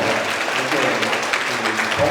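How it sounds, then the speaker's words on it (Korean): An audience applauds at a political talk concert, a dense wash of clapping with speech mixed in. "큰 박수 한번 부탁드립니다"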